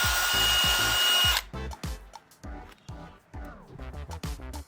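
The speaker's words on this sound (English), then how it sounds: "So I'm going to go with this 5/16 drill bit." A power drill with a 5/16 drill bit boring holes through a painted rear spoiler covered with tape, heard as a loud sustained whine that cuts off, then short bursts of drilling revving and stopping.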